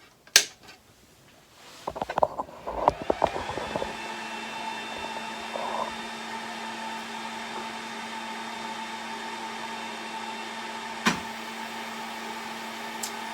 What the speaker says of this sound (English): so now we're going to turn the machine on.